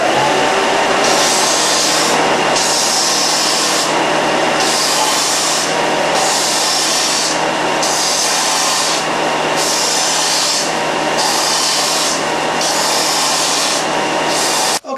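A scroll-sawn wooden hollow-vase piece is rubbed across sandpaper in loud, rhythmic strokes, about eight even rasping passes with short pauses between them.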